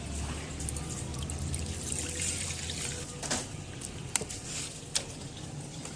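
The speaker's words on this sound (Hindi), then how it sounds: "इसमें आधा कप सिरका डाला है।" Vinegar pours steadily with a trickling, splashing sound into a bowl, close by, with a few sharp clinks near the end.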